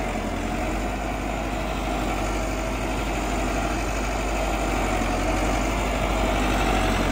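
A Massey Ferguson tractor engine runs steadily, a loud, continuous low idling rumble with constant vibration and no break, heard close up and alone without any voices.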